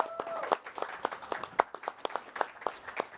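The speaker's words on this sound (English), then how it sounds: "round of applause for Wojtek" A small audience at a SOLIDWORKS community event gives a fairly quiet round of applause for a participant, with sparse, distinct claps from a few hands and a brief voice at the start.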